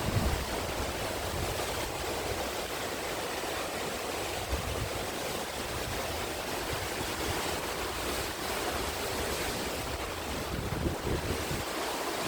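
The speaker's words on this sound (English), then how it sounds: "Now it's very rough, so I won't be able to swim in the ocean itself." Rough ocean surf breaks continuously on the shore, a thick rushing wash of waves mixed with gusty wind buffeting the microphone, steady and moderately loud throughout with no voices.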